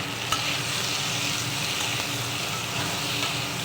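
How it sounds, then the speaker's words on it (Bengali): Potatoes frying with turmeric and salt, a steady close crackling sizzle that holds evenly throughout, with a single sharp utensil tap near the start and no speech. "আলুটা লাল লাল ভাজার জন্য আমি একটু"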